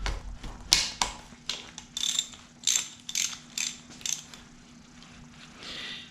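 A ratchet wrench clicks in quick bursts while loosening bolts on a 200-4R automatic transmission during disassembly, rapid pawl ticking repeated several times with short pauses, close and crisp, no talking.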